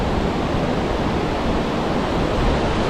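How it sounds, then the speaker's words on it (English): Strong wind rushes loud and constant through trees at Pictured Rocks, a dense, steady roar with no other sounds. "Wind is just insane"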